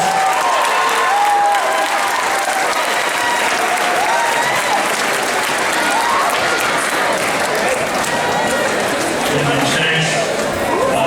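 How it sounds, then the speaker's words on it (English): Loud, continuous crowd applause with cheering roars through a school gym at a boys' basketball championship pep rally, a thick, unbroken wall of clapping lasting throughout. "Mr. Mike Strack, give a round of applause."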